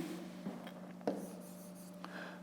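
Pen or chalk writing the answer to a grade 5 maths crossword exercise, a few soft scratchy strokes with small taps, close and quiet over a steady low hum, no talking.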